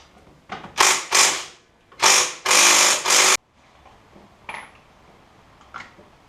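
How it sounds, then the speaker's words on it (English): Impact wrench bursts on an ATV wheel hub of a 2005 Suzuki KingQuad 700: four loud, short whirring rattles in quick succession, then faint clinks and handling noises. "Impact wrench."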